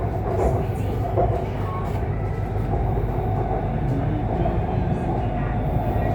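Thai BTS Skytrain car rolling between stations near Samut Prakan, a steady loud rumble and rail hum with faint clatter filling the whole stretch, no talk.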